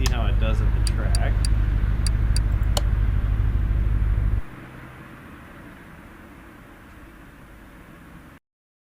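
Jeep Wrangler driven in Car Mechanic Simulator, a loud continuous engine rumble with rapid clicking ticks early on, then abruptly dropping to a quieter, steady low drone before cutting to silence.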